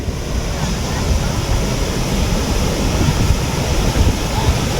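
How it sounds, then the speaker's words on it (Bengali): Sea waves at high tide roll onto Bakkhali beach, a loud continuous surf roar with wind buffeting the microphone, steady and unbroken throughout. "সমুদ্র একদম কাছে, একদম প্রচুর ঢেউ।"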